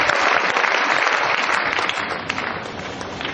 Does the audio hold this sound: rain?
no